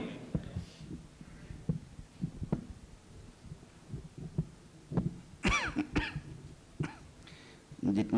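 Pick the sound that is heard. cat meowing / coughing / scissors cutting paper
coughing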